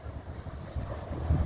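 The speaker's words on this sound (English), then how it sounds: "And it's really windy outside." Steady low rumbling wind outdoors in Las Vegas buffeting the microphone, continuous and fairly loud, with gusts swelling toward the end and no voices.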